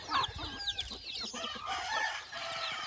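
Native country hens and baby chicks cluck and peep busily at close range on a farm, with a rooster crowing amid the continuous flock chatter.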